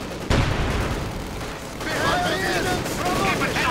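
Company of Heroes 2 battle with a Panther tank engaged: a sudden loud crack of gunfire opens a dense, continuous rumble of shots and explosions, with whistling shell sounds layered over the din.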